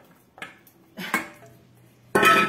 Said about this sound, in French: Donc là, je vais mélanger mon coulis qui n'est plus chaud.